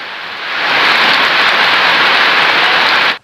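Heavy rain pours in Kokalukuna, Bau-Bau, during flooding. It is a loud, dense, continuous roar that swells in over the first half second and cuts off abruptly.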